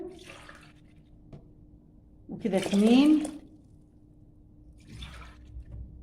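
Water poured from a mug into a cooking pot on a stovetop while making rice pudding, one short splashing pour in the middle, with someone speaking briefly before and after.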